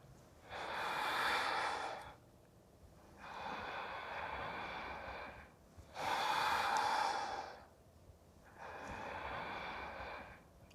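Slow, deep breaths during a stretching exercise for the splits: four long, soft airy inhales and exhales at an even, unhurried rhythm, close and quiet.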